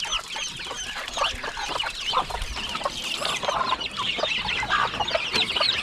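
Ducks on a farm give a busy chorus of overlapping clucky calls, steady and fairly close, with no voices over them.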